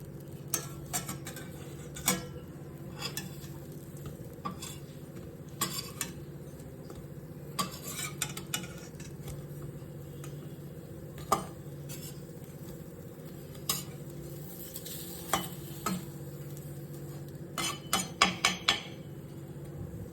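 A spatula turns oil-free telebhaja fritters in a pan at home, giving scattered light clicks and scrapes against the metal that gather into a quick cluster of taps near the end, over a quiet kitchen hum.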